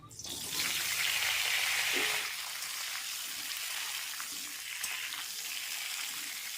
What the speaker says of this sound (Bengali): তেলের মধ্যে ফোড়নে দিচ্ছি পাঁচ ফোড়ন এবারে কেটে রাখা চিচিঙ্গে আর আলু দিয়ে দেব